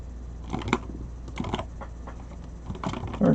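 Fingers tap on a computer keyboard in short clustered bursts of close, crisp clicks with brief pauses, and no one speaks.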